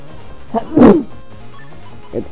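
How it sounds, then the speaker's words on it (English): A single sharp human sneeze bursts out close and loud, preceded by a small intake of breath and followed by a faint trailing sound. "Excuse me, I just sneezed."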